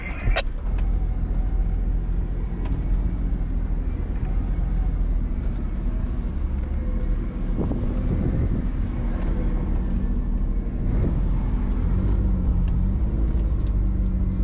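A 4WD vehicle cruises along a soft sandy desert track beside a netting fence in Victoria's Big Desert. Its engine gives a steady, continuous rumble with low thumps and bumps throughout, and a faint voice comes through once or twice.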